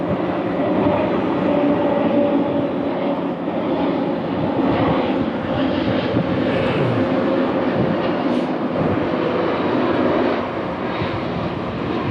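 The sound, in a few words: airplane flying overhead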